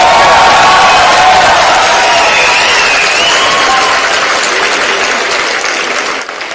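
A large graduation crowd at the UVCE centenary ceremony gives loud, sustained applause for the passing-out students, with scattered cheers mixed into the clapping before it starts to thin out at the very end.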